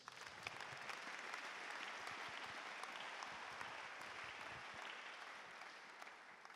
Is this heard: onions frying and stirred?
no